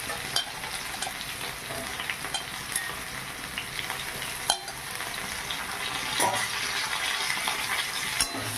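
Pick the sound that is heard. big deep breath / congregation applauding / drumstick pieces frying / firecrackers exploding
drumstick pieces frying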